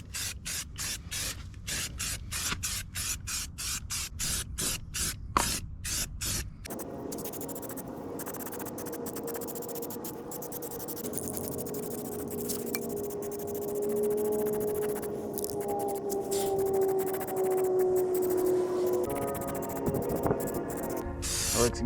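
Heavy duty primer sprays from a can onto old wheels mounted on an old tire: rapid short bursts at first, then one long steady hiss that runs on, loud and close.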